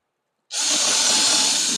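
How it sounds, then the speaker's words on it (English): A power drill makes a single burst of about a second, pre-drilling holes in narrow wooden sawbuck legs with a close, loud, steady whirring hiss that starts and stops abruptly. "these are pretty narrow, so I'm going to"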